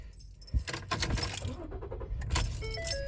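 A 2015 Ford Taurus Police Interceptor starting after a battery replacement: keys jangle at the ignition, then the engine cranks briefly and settles into a steady idle close by.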